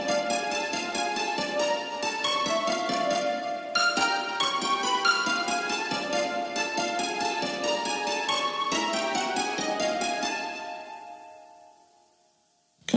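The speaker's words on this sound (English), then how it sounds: "I added cymbalum, a synth that sounds like harp, and harp." A plucked BBC SO Discover harp layered with cymbalum and a harp-like synth plays a rippling run of bright, quick notes at moderate level, then rings out and fades to quiet.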